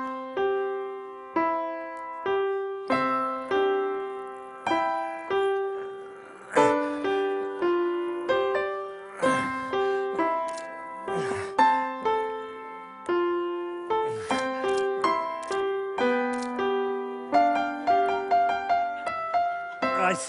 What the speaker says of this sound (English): what a 7-year-old child sounds like when he plays the piano